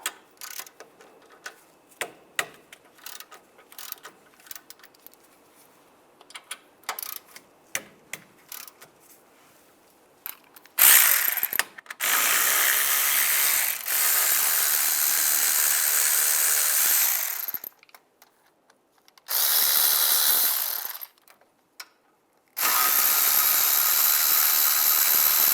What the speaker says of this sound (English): Now I'm going to use a 7mm hex socket and take the bolts out.